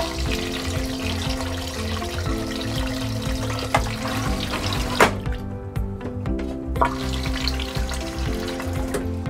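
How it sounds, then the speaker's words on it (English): A newly installed ceramic RV toilet flushes, a steady rush and swirl of water running for several seconds, partly masked by continuous background music. "Now we're going to flush it and make sure that it works."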